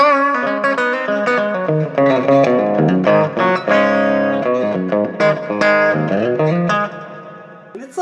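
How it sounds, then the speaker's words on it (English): Heavily reverberant guitar chords through a 50-watt amp, with an out-of-phase reverb tail that smears and wavers the pitch; chords ring loud and close, one after another, each washing into a long, never-ending decay, with no talking. "And it's like an out of phase reverb."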